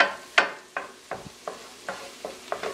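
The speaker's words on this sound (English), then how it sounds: "Give that a quick stir just to make sure all those flavors combine evenly." Ground cumin and smoked paprika being stirred in a pot while making Caribbean festive tomato rice, heard as about eight short scraping strokes at a steady rhythm over a soft sizzle, close and alone with no voices.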